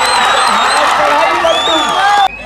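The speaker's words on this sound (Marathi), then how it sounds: "टाळ्या वाजतायत, शिट्ट्या वाजतायत।" Spectators at a village kabaddi tournament cheer, clap and whistle loudly, with shrill whistles and whoops rising over a dense crowd roar that cuts off abruptly at the end.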